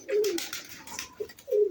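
A weak, thin, sick pigeon that has caught a chill utters soft low coos in two short bursts, near and alone, with a brief faint note between them and light background noise.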